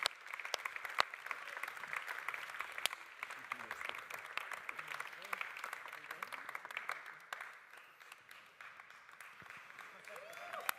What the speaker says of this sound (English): Big applause for Paulo.